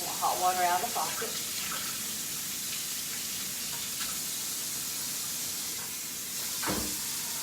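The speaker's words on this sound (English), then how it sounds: "Use some hot water out of the faucet." Hot water gushing from a faucet into a 5-gallon bucket for homemade laundry detergent, a steady broadband hiss running throughout with brief voice sounds near the start.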